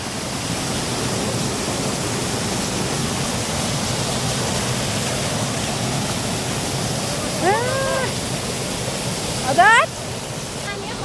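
Lauke Jharana waterfall in Nuwakot roars steadily and close by, a constant wash of falling water, while a voice speaks briefly over it near the end.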